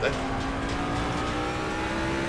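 A GT3 Mustang in a racing video game brakes and turns, a steady loud engine drone with a sustained tonal whine throughout and a faint tire squeal near the start.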